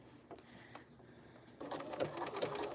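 Sewing machine doing a straight top stitch on apparel fabric; a faint quiet start, then a louder, steady run of rapid stitching in the second half.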